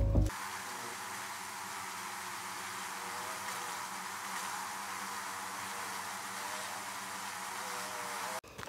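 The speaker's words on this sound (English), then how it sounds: "buzzing noise, like bzzz. It was really loud. And it was a bunch of bees." Steady, loud insect buzz from a swarm of bees encountered in the woods, holding continuously for about eight seconds with no talk.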